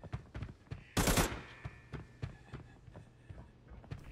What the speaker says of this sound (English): That was probably a bot AK